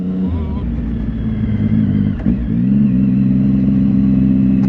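Dirt bike engines rumble and rev steadily close by, a low throaty drone that swells briefly midway, with faint voices underneath.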